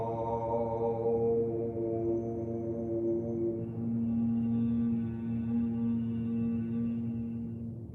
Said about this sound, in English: or we can take the traditional om.